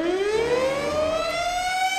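Ambulance siren with one steady rising wail that climbs in pitch over two seconds, loud and close, with no talk over it.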